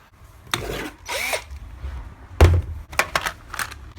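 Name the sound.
power drill drilling hole in steel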